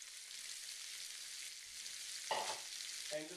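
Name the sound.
bacon, capsicum, carrot and onion frying in a frying pan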